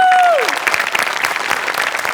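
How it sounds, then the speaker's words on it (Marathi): Studio audience applause at a Marathi comedy show, dense steady clapping from a crowd throughout, with a tonal music sting sliding down at the start. "तुझ्या अटेम्प्टसाठी टाळ्या व्हायला पाहिजेत"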